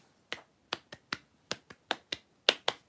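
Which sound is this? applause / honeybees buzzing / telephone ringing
applause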